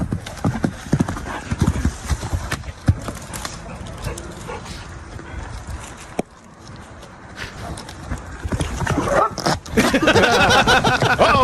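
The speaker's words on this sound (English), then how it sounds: "Horse Kicks Tree, Farts on Dogs, Then Runs Away" A horse clip-clops around and kicks a tree near several dogs, with hoof thuds, a whinny and dog barks mixed with people exclaiming and talking over the commotion.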